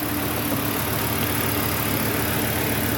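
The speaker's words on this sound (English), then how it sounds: "Okay, now the engine's getting a little warm." A Volvo 850 T5 engine idles as it warms up, a close, loud, steady rumbling drone that holds even for the whole stretch without anyone talking.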